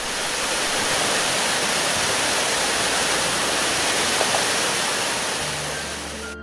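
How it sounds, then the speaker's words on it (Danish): Døndalen waterfall on Bornholm, Denmark's largest, with a drop of up to 20 meters, roars as a loud, steady rush of falling water that fades slightly at the end. "hvor Døndals faldet med et fald på op mod 20 meter er Danmarks største vandfald"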